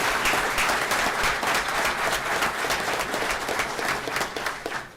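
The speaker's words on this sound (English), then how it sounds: "Let's give all of our Special Olympians one big round of applause." An audience at a school district board meeting claps for Special Olympians in a sustained burst of dense applause that holds steady throughout and tapers only slightly at the close.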